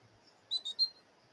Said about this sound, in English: the whistle cue is added